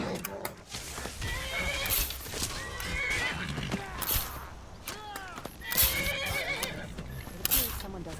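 Horse neighing and whinnying in the video game Skyrim, several rising whinny calls amid clip-clop hooves and game combat noise, with a voice talking over parts.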